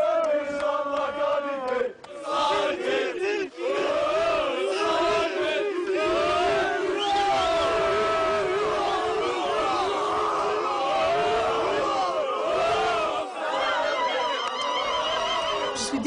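A large crowd of neighbours and childhood friends cheering an Algerian footballer in the street outside, loud continuous shouting, chanting and ululation-like whoops that fill the whole stretch without pause.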